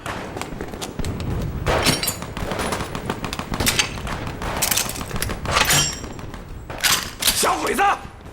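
Heavy machine gun fire in a wartime action film battle, a dense, continuous rattle of shots mixed with thuds and blasts, loud and close, with shouting voices mixed in throughout.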